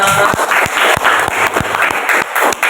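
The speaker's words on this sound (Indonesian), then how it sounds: "Tepuk tangan semuanya." Children clap together in a classroom, loud and close, with sharp claps in a fairly regular group rhythm that gradually grows more scattered and keeps going for the whole stretch.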